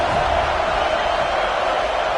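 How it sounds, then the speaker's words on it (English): Football game crowd roaring in a stadium, a dense, continuous wash of cheering and noise that stays loud and steady with no breaks, with no clear individual voices. "This crowd ready to make its presence known."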